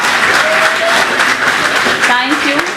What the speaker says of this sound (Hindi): तालियों से देनी होती है इजाज़त।